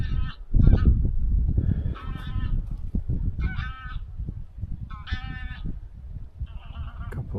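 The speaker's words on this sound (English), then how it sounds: "A couple of geese." Geese honk repeatedly at a campsite in New Galloway, loud nasal calls in short irregular bursts over a steady low rumble of wind or movement nearby.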